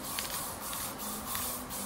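Spray paint hisses from an aerosol can while garden items are recoated from brown to black outdoors, in a series of short, close, rhythmic bursts running back to back.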